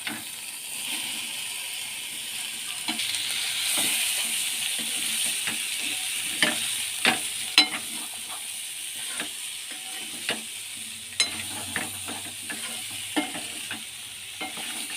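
Malabar spinach and shrimp curry with potato stir-fried in a pan: a steady sizzle runs throughout while a spatula scrapes and taps the pan in scattered clicks.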